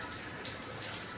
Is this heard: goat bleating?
no